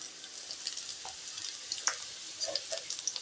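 Onion, ginger and garlic sauté in a pan with a faint steady sizzle and a few soft stirring clicks, low in level and without talk.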